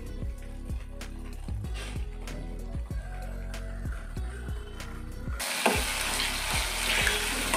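Salt dry-roasts in a pan for a chilli pickle, with a dry crackle and rhythmic scraping strokes at a regular pace that grow into a louder, brighter hiss near the end.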